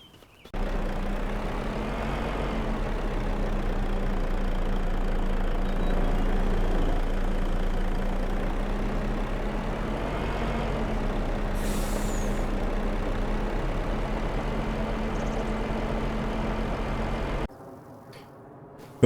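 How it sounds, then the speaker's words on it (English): A truck delivering a farm silo idles with a steady low engine drone for most of the time, then a short sharp air-brake hiss cuts through before the engine shuts off and it goes quiet. "Okay, the truck has arrived and they have already set up."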